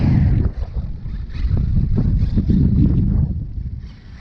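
Strong wind gusts buffet the microphone in a loud, continuous low rumble that rises and falls unevenly, with no voices.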